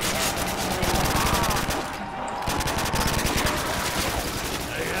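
An upgraded UMP submachine gun blasting in Call of Duty zombies mode, loud bursts of rapid fire with a brief lull in the middle, then more sustained shooting.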